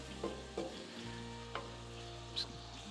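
Lasagna sauce ingredients with onion powder and garlic powder sizzle gently in a pan as they are stirred in, with a low steady fry, a few soft scrapes and a background hum.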